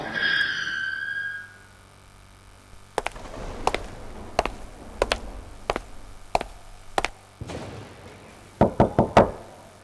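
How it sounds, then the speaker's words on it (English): A squeaky creak, then a series of heavy, evenly spaced thuds like slow footsteps growing louder, ending in a quick flurry of knocks. "A gate bangs and heavy footsteps are heard approaching the door."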